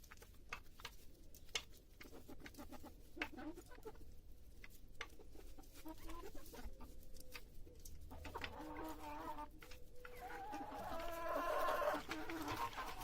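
Chickens clucking and murmuring nearby with a scattering of sharp ticks and taps, growing a little louder and busier toward the end.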